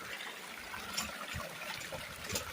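Water running through a creek around a gold sluice with a bucket auto feeder, a steady broad trickling and rushing wash, fairly close and continuous with no talk.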